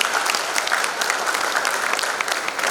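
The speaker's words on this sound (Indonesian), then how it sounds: "Boleh tepuk tangan lagi." Steady, dense applause from a large crowd at a university graduation ceremony in Batam, sustained and even throughout with no talk.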